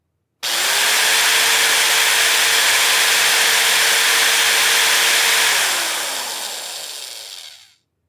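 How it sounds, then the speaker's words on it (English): Electric hammer drilling used by police constables inside a hotel room, one loud continuous whirring grind that starts abruptly, holds steady and then winds down and fades near the end, alone without talk. "Then the constables started working with their electric hammers."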